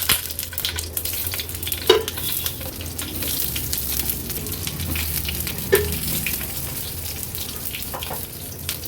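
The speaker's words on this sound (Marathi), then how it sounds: "एक एक करून ही वांगी आपण ह्या पॅनमध्ये सोडणार आहोत" Eggplants dropped one by one into a pan with spread oil over a lowered gas flame sizzle steadily, a close, continuous frying hiss with a couple of soft thuds as pieces go in, no voices.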